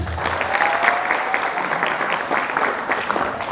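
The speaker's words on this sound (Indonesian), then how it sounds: "Tepuk tangan" Sustained applause from a school audience at SMA 1 Ciwidey during a Ramadan lecture, a dense steady patter of many hands filling the room, with a faint voice or tone briefly audible underneath.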